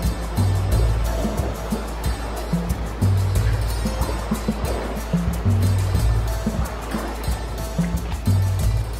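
The Yaque del Norte river near Manabao, Jarabacoa, rushes loudly and continuously close by, with churning water and occasional low thumps, and no voices over it.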